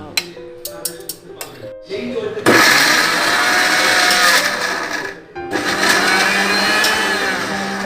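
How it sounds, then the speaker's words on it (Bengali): A countertop blender whirs loud and steady, blending boiled carrots for carrot halwa. It starts after a few seconds of light kitchen clatter and a voice, dips briefly once, and then keeps running to the end. "আমি একেবারে সিদ্ধ করে ব্লেন্ড করে নিচ্ছি, একেবারে নরম হয়ে যাবে।"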